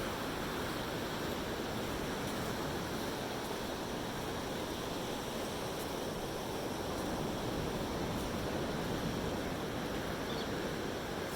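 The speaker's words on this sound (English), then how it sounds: "Still the ocean." Steady ocean surf washing continuously at False Cape State Park, a broad, even roar of waves with wind, moderately faint and without voices.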